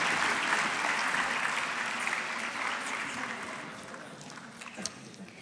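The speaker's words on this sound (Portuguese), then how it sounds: "Mais um aplauso para Helena Agostinho." A ceremony audience in Lisbon gives a long round of applause. Dense clapping starts loud and fades slowly, thinning out toward the end with a few sharp individual claps.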